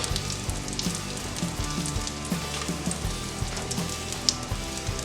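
Salmon cakes sizzle and crackle as they fry in olive oil, a steady close-up hiss with scattered pops and some low clattering of a pan or utensil.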